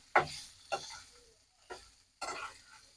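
Potatoes for singara filling are stirred and tossed in a pan, four distinct scraping strokes with short pauses between them, close and moderately quiet, no voices.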